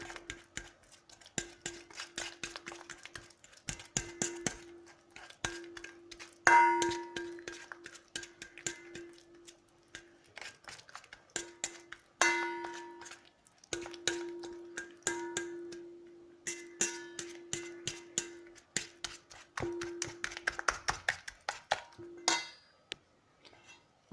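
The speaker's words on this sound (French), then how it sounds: "Je mélange à nouveau." Peanut cookie dough mixed in a bowl with a steady run of close, crisp ticking and scraping strokes, some in quick bursts, over a faint constant hum.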